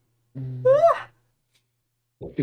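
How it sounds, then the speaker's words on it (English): A single drawn-out yawn rising and falling in pitch, close and alone, followed by a short breathy sound after a pause. "What's the sound? Sorry, I was yawning."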